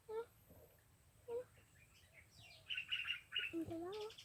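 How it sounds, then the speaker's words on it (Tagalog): Short bird chirps and calls in scattered bursts, some quick trilling notes later, fairly faint against a quiet outdoor background on an organic farm. "Uy, mga ibon."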